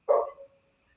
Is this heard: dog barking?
yes